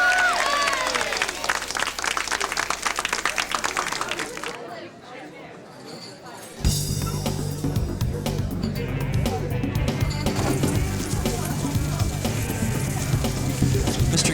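A crowd cheering and applauding in a dark comedy film scene, a dense roar of clapping and voices that drops away briefly midway before swelling back up loud and full, with talk mixed in.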